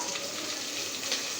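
Tomato and green chili dropped onto sautéed onion in a pan give a brief, steady, fairly soft sizzle with no voices over it.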